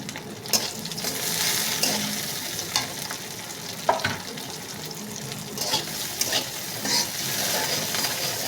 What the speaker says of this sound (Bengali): সবগুলো উপকরণকে একটু ভেজে নিচ্ছি